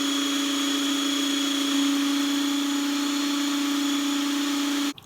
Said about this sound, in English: So we're going to blend these up and just drizzle in a bit of oil.